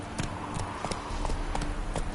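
Hooves of the horse Roach clip-clop steadily in a video game, about six evenly spaced footfalls over a constant background bed, moderately loud and without talk.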